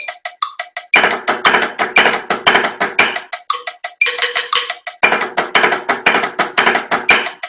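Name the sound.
drum rudiment: diddle on downbeat, flam on third partial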